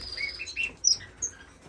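Society finches chirp in quick, faint high tweets, a few scattered calls over a quiet background in an indoor bird room.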